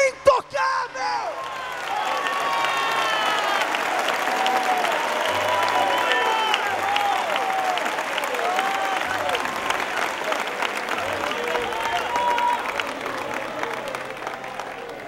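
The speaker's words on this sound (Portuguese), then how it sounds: "uma salva de palmas para Jesus" A church congregation at a pastor's sermon breaks into sustained, loud applause mixed with whoops, cheers and shouting voices, a full crowd roar lasting well over ten seconds after a few opening words.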